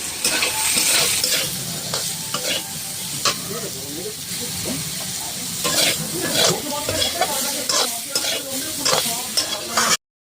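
Ground cashew, poppy seed and melon seed spice paste being sautéed in a pan for a vegetarian jackfruit curry: a loud, steady sizzle and hiss with repeated stirring scrapes, while someone talks over it.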